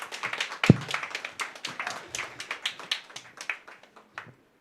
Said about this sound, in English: welcome Dr. Velumani with a huge thunder of round of applause